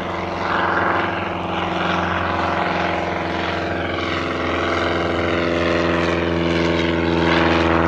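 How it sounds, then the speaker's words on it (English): A Piper Super Cub propeller plane drones steadily and loudly while towing a Fauvel AV-36 tailless glider, its engine tone holding even throughout with no voices. "The Fauvel AV-36 tailless glider being towed by the Piper supercar."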